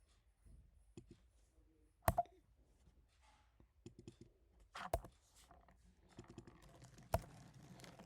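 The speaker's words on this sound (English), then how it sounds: "So I'm typing" Quiet, scattered keystrokes on a computer keyboard, irregular taps with a few sharper, louder clicks in a near-silent room.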